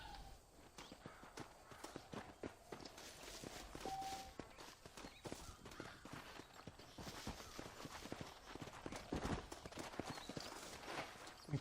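Horse hooves clip-clop steadily in the Red Dead Redemption video game, a continuous rhythmic trot that stays at an even level under a busy game soundscape.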